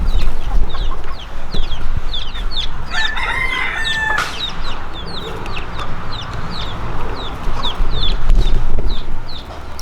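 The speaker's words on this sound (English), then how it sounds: "chickens everywhere" Chickens cluck steadily all around outdoors in Hawaii, with a rooster crowing partway through against constant background noise.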